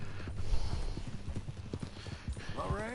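Horse hooves clip-clopping in Red Dead Redemption 2, a steady rhythm of close hoof falls on a hard surface, with a voice speaking over them near the end.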